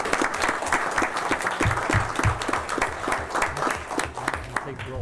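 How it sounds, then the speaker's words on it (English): Audience members at a council meeting clap together in a lively round of applause, many hands close by with a few voices mixed in as the clapping holds steady and then starts to thin. "let's give them a round of applause."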